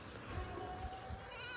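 A goat bleats briefly near the end, rising over a steady rushing background of wind and movement while someone rides a brakeless bicycle outdoors.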